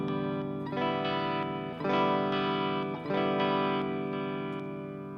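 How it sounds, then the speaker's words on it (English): Electric guitar signal run through the preamp of a Space Echo tape echo unit, a sustained chord-like tone with darkened highs and a few fresh attacks, steady and fairly loud with no voices. "that's already part of the space echo sound"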